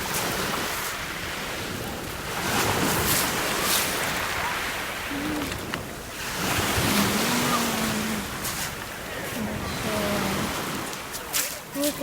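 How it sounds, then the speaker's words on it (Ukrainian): Sea waves wash onto a crowded summer beach, a steady broadband surf roar with swelling surges, some wind buffeting on the microphone and faint voices of people in the background. "Сегодня я на море."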